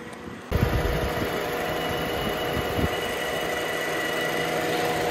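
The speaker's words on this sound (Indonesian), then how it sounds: "Sekarang kita lihat ruang mesinnya dengan AC kita nyalain ya guys." A 2012 Honda Freed's L15A7 VTEC engine idling with the air conditioning switched on, a close, steady hum with a mechanical whirr that starts abruptly and then holds an even level with no voices.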